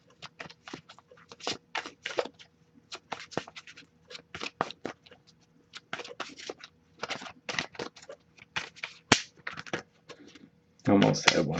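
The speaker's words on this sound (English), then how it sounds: "I'll give it a few more shuffles" A deck of oracle cards is shuffled in close, crisp bursts of riffling and tapping, repeated in short irregular runs across quiet pauses.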